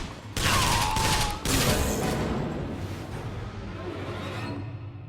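Gunfire in BioShock Infinite: Burial at Sea, several loud close shots with sharp bursts and a whooshing streak, followed by lingering rumbling reverb and continuing game noise.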